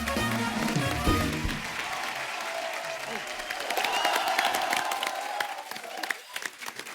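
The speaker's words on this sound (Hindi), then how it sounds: "तालियां हमारे शार्क्स के लिए" Studio audience at a comedy talk show applauds and cheers for the Sharks, dense clapping building and holding for several seconds with crowd cheering, a voice speaking briefly at the start.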